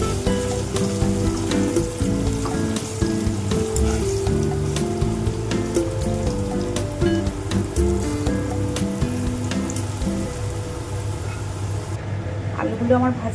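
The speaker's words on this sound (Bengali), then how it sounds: "আলুতে আমি পরিমাণ মতো লবণ হলুদ দিয়ে আলুগুলো আমি ভেজে নিচ্ছি।" Potato pieces fry in hot oil with salt and turmeric, a loud, continuous sizzle with occasional sharp pops and stirring, while a voice speaks over it.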